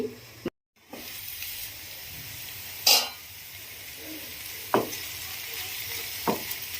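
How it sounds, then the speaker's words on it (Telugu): Ivy gourd curry frying in oil in a pan, a soft steady sizzle with a few sharper clatters of stirring or utensil taps scattered through. "మంచిగా ఫ్రై అవ్వనివ్వాలి."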